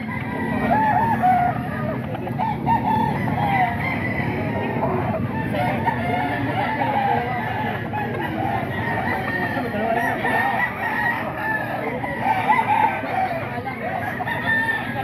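Gamecock roosters in a Philippine grotto setting, including an 8‑month lemon sweater, crowing and clucking in a dense, continuous flock din that holds steady and fairly loud throughout, with faint talk underneath.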